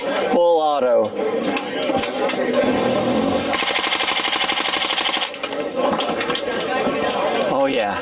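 Suppressed MP5 fired full auto through a ThunderCan suppressor, a rapid loud mechanical chatter of shots in a sustained burst lasting nearly two seconds, with people talking before and after.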